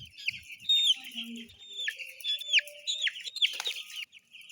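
Farm chickens in a poultry shed cluck and squawk in quick, bright bursts, several birds calling close by and overlapping, with short quiet gaps between the calls.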